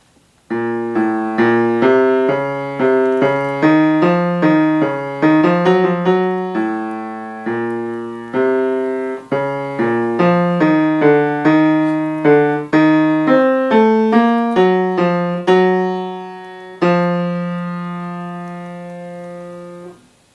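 A piano plays a contrapuntal fugue passage with heavily emphasized chord changes. The playing is steady and clear, and the final chord is left to ring out.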